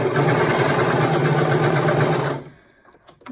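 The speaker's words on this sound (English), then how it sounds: "make sure you're only sewing the 2 layers that you intend to sew and not any other part of your bag" A sewing machine runs steadily, stitching two fabric layers of a car trash bag, with a close, rapid, even whir that stops abruptly near the end.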